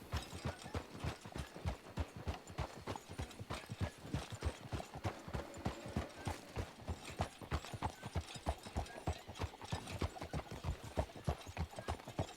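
Horse hooves clip-clop in a fast, steady, even rhythm throughout a video game endurance ride, with soft clinking tack under the repeated beats and no talking.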